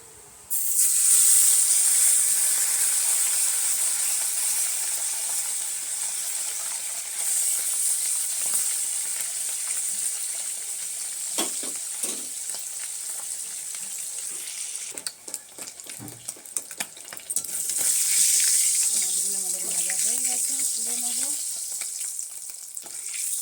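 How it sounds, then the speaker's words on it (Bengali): Puti fish frying in hot oil gives a loud, close, continuous sizzle and crackle. Intermittent stirring clatters sound partway through, and a brief faint voice is heard toward the end. "তেলটা আমাদের গরম হয়ে গেছে এবার আমরা মাছগুলোকে ভেজে নেবো"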